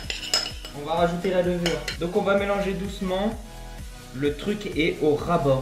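A utensil gently stirs chocolate cake batter with baking powder just added, giving repeated soft clinks and scrapes against the bowl under continuous French talk.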